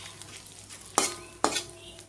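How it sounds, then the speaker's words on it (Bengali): Corn papads frying in a pan of oil give a faint, steady sizzle, broken by two sharp scraping stirs of a utensil against the pan. "এখন এই যে ভেজে নিচ্ছি পাঁপড় ডালের সাথে। এগুলো হচ্ছে ভুট্টার পাঁপড়"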